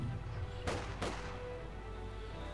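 Battle in the Company of Heroes 2 video game, with Soviet conscripts under fire from German grenadiers. Two sharp gunshot cracks ring out over a low, rumbling combat backdrop, loud and close together.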